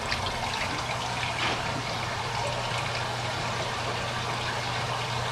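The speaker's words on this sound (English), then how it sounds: "You can see that the water pumps down there." Water pumps circulating water in a hydroponic greenhouse give a steady trickling, pouring wash over a low constant hum, moderately quiet and unbroken with no voices.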